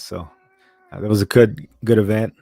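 A cat gives a thin, brief meow in a pause between a person's speech, faint beside the louder talking around it.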